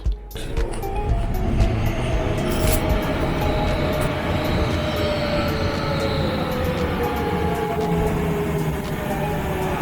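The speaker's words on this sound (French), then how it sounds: "Le métro" A subway train in Naples rumbles along continuously, with a loud, steady roar of wheels on track and faint squealing tones drifting through.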